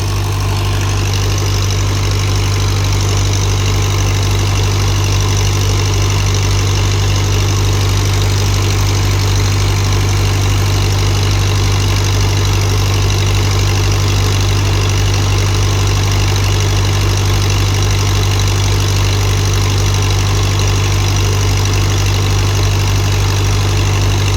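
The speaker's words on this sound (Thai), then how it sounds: "ตอนนี้ดึงน้ำอยู่ตัวเดียวครับ อีกตัวนั้นฟรีเครื่องไว้" A water pump engine running steadily at a pumping station, a loud, close, constant droning hum with a strong low rumble and no change for the whole stretch, no speech.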